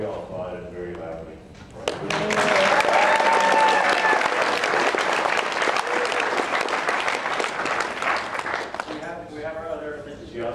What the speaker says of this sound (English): we'll tell her we all applauded very loudly